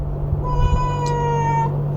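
A pet cat gives one long, clear, close meow that holds steady for over a second over a low background hum.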